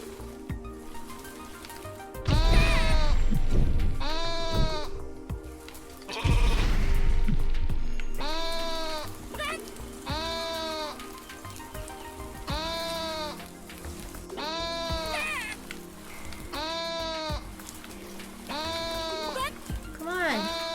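Video-game sheep bleat over and over in a steady pattern with a constant rain-like hiss beneath. A person talks over the calls, with a couple of louder bursts of speech near the start.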